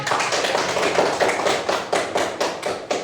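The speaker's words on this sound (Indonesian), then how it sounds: "Tepuk tangan." A group claps hands in a classroom after a presentation, a quick run of about ten close, crisp claps, fairly even in rhythm, with no talk over them.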